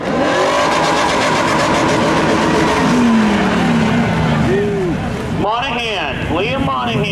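Spectator drag racing cars at Seekonk Speedway roar down the strip in a photo-finish run, with loud engine noise and tire sounds throughout and an announcer talking over the racing.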